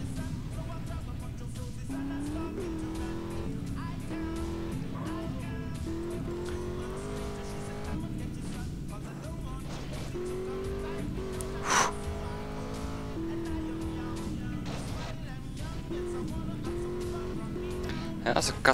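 A car drives in GTA San Andreas with a steady engine drone and shifting pitch, tires squealing briefly near the end, while someone talks over it throughout.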